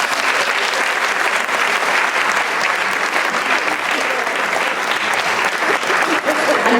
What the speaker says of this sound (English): Can I please have a big round of applause for the leader of the Caribbean Labour Solidarity